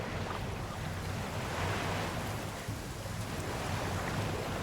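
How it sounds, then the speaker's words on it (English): Continuous broadband rush of crashing waves and churning water in the video game Infinity Nikki, a steady, loud, dense wash with no pauses and no voices. "it sounds like I'm in big waves crashing against the surface"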